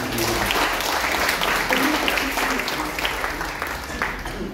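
Church congregation clapping loudly in praise, a thick continuous wash of applause with voices mixed in, strong and steady before tapering a little near the end.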